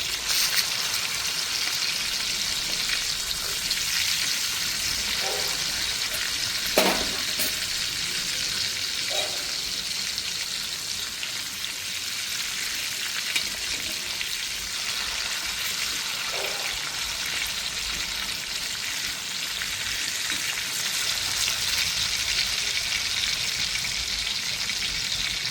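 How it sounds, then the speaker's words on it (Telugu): Bangda mackerel fish fry in hot oil in a pan with a constant, dense hiss that runs unbroken, plus a few faint knocks as the pieces are turned. "ఒక 5 నిమిషాల వరకు ఫ్రై చేసుకోవాలండి తిప్పేసుకుంటూ."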